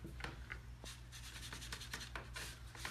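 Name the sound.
rubbing dry-brushed paint off faux marquee letters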